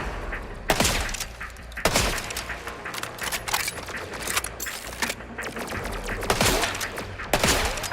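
Repeated gunfire in a shooter video game, sharp shots landing at uneven intervals across the stretch, with a steady din of game ambience underneath and no talk.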